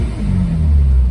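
A 1984 MG Metro Mk1 engine rumbles close and loud, rising briefly in pitch as it revs, a low throbbing note over about a second with no talking.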